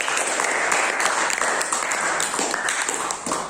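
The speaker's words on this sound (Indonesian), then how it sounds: "berikan tepuk tangan untuk kita semua" A class or student audience applauds at the end of a biology lesson on fungi, a steady wash of clapping lasting a few seconds, fairly close and even, with no voices on top.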